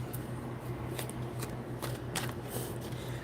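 Playing cards being shuffled in short riffling bursts at close range, a few crisp snaps standing out over a steady low background hum, with no talking.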